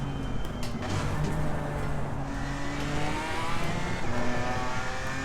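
A race car from Assetto Corsa Competizione drives steadily, its engine droning loud and close with rising and falling pitch through gear changes, no talking over it.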